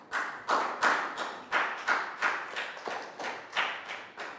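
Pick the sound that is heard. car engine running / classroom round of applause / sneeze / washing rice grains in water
classroom round of applause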